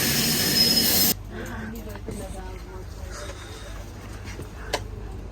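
A train rumbles at a busy railway station platform, with steady rolling rail noise and occasional metallic squeals in the distance, a loud burst at the start, and faint voices in the background.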